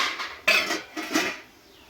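A lid set down over a pan with dishes clinking, two quick metallic clatters close by, then quiet.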